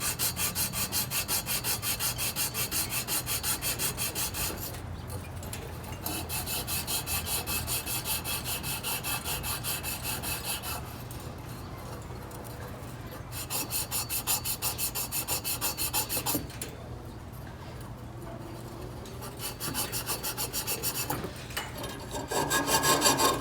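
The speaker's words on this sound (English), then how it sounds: "we're gonna go ahead and prep these as best we can and sand it" Hand sanding of a surface being prepped on an air compressor replacement job, a steady, loud back-and-forth rubbing and scraping that runs nearly continuously with a few short pauses, close up with no talking.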